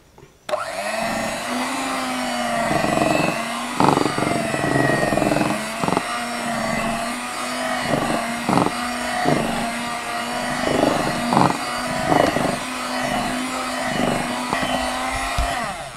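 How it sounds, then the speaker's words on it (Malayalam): Electric hand mixer beating fresh cream for an almond cake, a steady loud motor whine running continuously for the whole stretch with brief surges and dips in pitch as the beaters work, no voices over it. "ഫ്രഷ് ക്രീം വീണ്ടും നമ്മൾ ചെറുതായിട്ടൊന്ന് ബീറ്റ് ചെയ്ത് കൊടുക്കുക"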